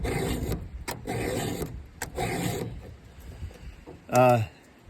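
A file rasps against a chainsaw chain in three short, close strokes, each a harsh scraping burst, followed by a quiet gap and a brief spoken voice near the end.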